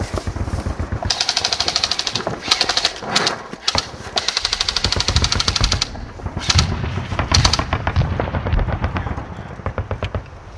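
Sustained bursts of rapid automatic gunfire mixed with single shots in a wooded firefight, loud and close, with brief pauses between volleys and no talk over it.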